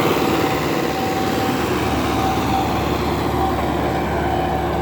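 A steady, loud engine drone runs continuously with a constant mechanical rumble and a faint whine from an MTZ-80 tractor plowing a field.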